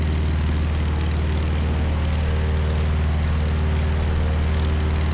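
A propeller airplane engine in Microsoft Flight roars at full throttle on the takeoff roll, a loud, steady droning hum with a throbbing low pulse throughout.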